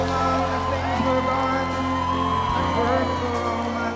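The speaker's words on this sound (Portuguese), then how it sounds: "Foi muito aplaudido e ovacionado pelos mais de 50 mil participantes da convenção" Huge convention arena crowd of more than 50,000 cheering and applauding Trump as he enters with a raised fist, a loud continuous roar thick with whoops and shouts.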